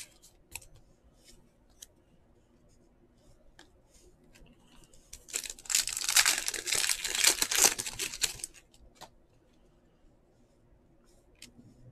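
Foil packs of 2020-21 Panini Flux basketball cards are torn and crinkled open, a burst of loud, close crackling and ripping in the middle, with quieter rustles and handling before and after.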